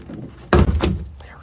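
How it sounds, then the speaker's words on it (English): Door card clips popping loose from the rear door of a classic Saab 900: a sharp, close plastic thunk, then a second softer pop just after, in an otherwise quiet garage. "It clips on, so you'll hear some popping."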